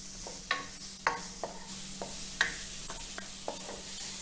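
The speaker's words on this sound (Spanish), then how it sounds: "Ya tengo picado aquí el ajo finamente. Y vamos a poner con la cebolla, que tenemos aquí como media taza. Vamos a sofreír esto un poco." Finely chopped garlic and about half a cup of onion sauté in a frying pan, giving a soft, steady sizzle punctuated by repeated sharp spatula scrapes and taps, with no voices.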